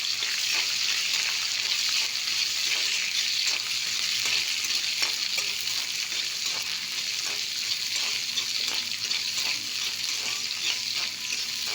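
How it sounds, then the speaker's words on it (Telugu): Chopped capsicum frying in a pan makes a loud, continuous close sizzle with faint crackling pops throughout, no talk over it. "ఇది క్యాప్సికమ్ వేగనిద్దాం."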